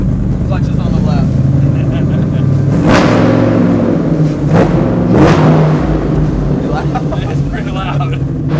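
Snap-on Factory Five Daytona Coupe engine running loud and close, a heavy rumbling idle punctuated by two or three sharp blips of revving.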